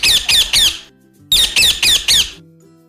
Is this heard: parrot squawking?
yes